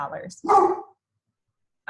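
A dog barks indoors at home, two short sharp bursts close by, then silence.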